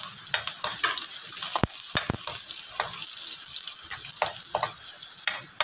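Garlic and onion sizzle steadily in hot oil in a pan, with scattered sharp clicks and scrapes of stirring over a bright, continuous frying hiss.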